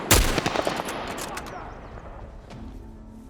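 Gunfire in The Last of Us Part 1 video game: a loud, sharp opening shot followed by a rapid burst of several close shots, then a decaying rumble with fainter scattered reports and a voice underneath.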